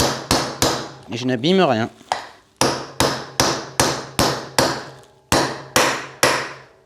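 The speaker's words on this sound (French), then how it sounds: "Donc là, je tape sur l'extérieur du roulement." A hammer taps the outer ring of a bearing being fitted into the water pump of an MBK Nitro scooter. Roughly a dozen sharp, evenly spaced metallic knocks ring out close up, with a brief whirring sound between them and someone speaking French.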